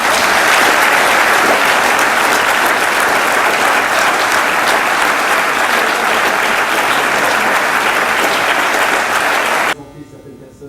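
A theatre audience applauds at the final performance of a play with loud, dense, sustained clapping that fills the room, then cuts off abruptly near the end, leaving only faint room tone.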